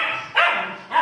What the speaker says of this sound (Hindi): ये सब पे भौंकता है।